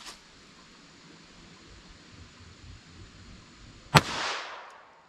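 A single sharp gunshot from a pistol firing a Remington Yellow Jacket .22 LR round into ballistic gel cracks near the end after quiet outdoor background, followed by a brief echoing decay.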